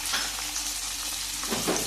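Onion and green chillies sautéing in oil for a green chilli pickle, a brief, even sizzle with faint stirring scrapes, heard close.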